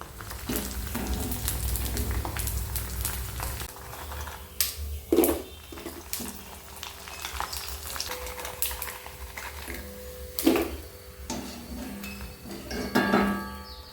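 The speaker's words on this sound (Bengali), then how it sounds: "আমি পাঁপড়টা ভেজে নিই" Papad frying in a home kitchen pan, with a steady sizzle under occasional clinks of utensils and pans against metal, fairly quiet and close.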